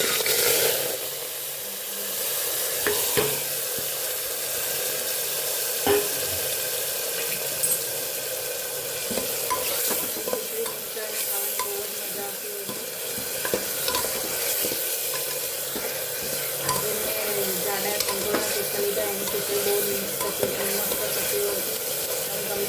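Cumin and asafoetida crackle in hot oil after mustard seeds go in. The sizzle hisses continuously with scattered pops and small utensil clicks throughout.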